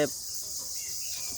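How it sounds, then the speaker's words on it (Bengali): A steady, shrill insect drone of crickets in a village carries on without a break, faint and even, with no voices present. "এই যে দেখেন ঝিঝি পোকার ডাক"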